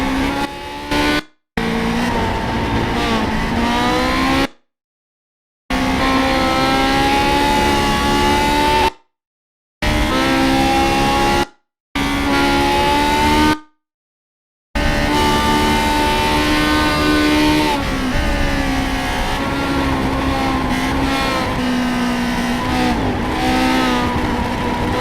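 Lotus 49 racing cars lap Indianapolis in a racing video game, their loud, high-revving engines rising and falling as several cars run together, broken by a few abrupt silent gaps.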